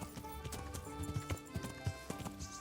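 In Kingdom Come: Deliverance, a horse gallops in quick, steady hoofbeats at moderate volume, with game ambience and a hint of voice behind it.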